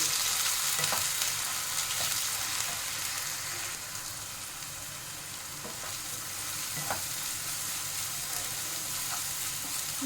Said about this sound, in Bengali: আদা রসুনটা দিয়ে ভালো করে ভাজা হয়ে গেছে